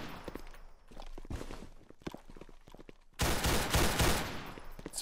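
Gunfire rings out in a Roblox shooter modeled on CS2, starting as scattered shots and then turning into a dense, loud burst of automatic fire that fills the last stretch, with no one speaking over it.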